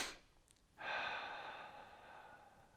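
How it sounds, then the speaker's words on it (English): Deep, strong inhale during a Tai Chi breathing exercise for the lower back, one long airy breath close to the microphone that fades out slowly, with no talk. "Nice, strong inhale."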